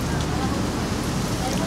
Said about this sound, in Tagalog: Inuulan po kami pero okay naman.